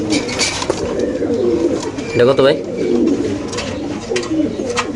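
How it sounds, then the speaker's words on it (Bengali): Pigeons at a pigeon seller's stall coo in low, throaty rolls close by, continuing under a man's brief spoken question. "আরেক জোড়া কবুতর"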